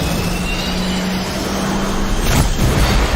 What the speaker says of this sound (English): buses driving past his house which sound apparently like jet engines